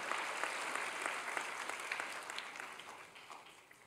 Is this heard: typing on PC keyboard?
no